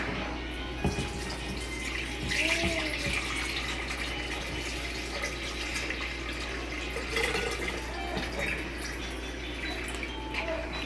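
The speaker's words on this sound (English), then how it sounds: "we're going to take 4 cups of water and pour it into the blender." Steady pouring of 4 cups of water splashing into a blender, a continuous close-up rush of liquid with slight gurgles, no voices.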